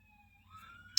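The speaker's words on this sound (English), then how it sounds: "A police car just drove by my street" A police car siren wails faintly in the distance as it drives past a country street. The tone slides and shifts, and a sharp burst is heard at the very end.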